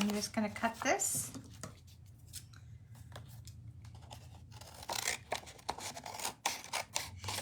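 Paper being cut with scissors for a decorative card storage box, with close snipping and rustling that comes in bursts, loudest at the start and again toward the end, amid handling noise.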